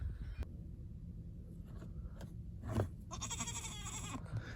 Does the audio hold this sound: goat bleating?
yes